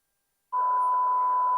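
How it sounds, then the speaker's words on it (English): A steady electronic beep at a single pitch from DJ software during a sound check starts after a brief silence and holds unbroken, clean and fairly loud. "If you hear this little beep,"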